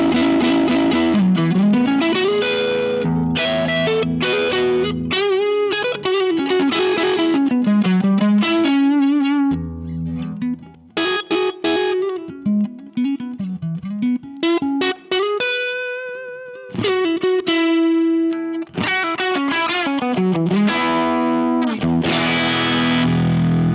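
Overdriven electric guitar lead through an ODS-style overdrive, sustained singing notes with vibrato and bends, phrases separated by short pauses, loud and up close with no talking.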